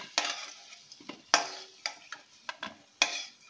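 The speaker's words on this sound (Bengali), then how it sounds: "এটাকেও একটু লালচে করে আমি ভেজে তুলে নেব" Potatoes fry in oil in a pan under a soft sizzle, broken by a series of sharp, close clinks and scrapes as a spatula turns them at an uneven rhythm.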